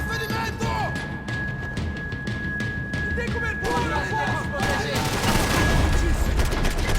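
Rapid gunfire in the shooter game Max Payne 3: dense bursts and thuds of shots continue throughout, growing louder toward the end, mixed with game sounds and some voice.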